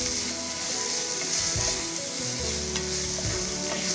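Chopped green chillies sizzle and fry steadily in a hot pan as they are stirred, a continuous close hiss with scraping stir strokes throughout.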